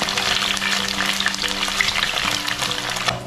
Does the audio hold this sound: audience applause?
no